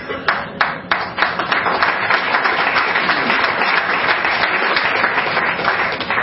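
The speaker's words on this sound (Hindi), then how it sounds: "तालियां भाई बजती रहें" Crowd applauding a guest being invited to the stage at a cartoon festival ceremony: a few sharp opening claps quickly swell into dense, sustained applause from a large audience, loud and close, with no voices over it.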